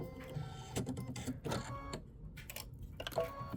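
An embroidery machine stitching a plaid design, producing rapid mechanical needle chatter in uneven bursts with short pauses and whirring between them, fairly close and alone.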